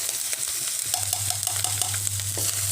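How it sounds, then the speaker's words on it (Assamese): Dry spices and aromatics frying in a pan for an Assamese chickpea curry, a steady close sizzle with a few light stirring clicks and scrapes throughout. "এইখিনি এতিয়া অকণমান মই ৰঙচুৱাকৈ ভাজি লওঁ।"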